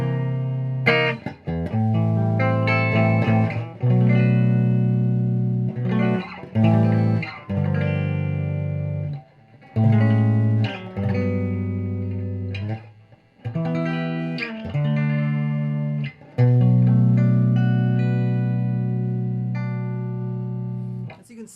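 Electric guitar played through a 1964 Fender Bandmaster amp rings out clean and loud, with sustained chords and single notes in phrases separated by short pauses.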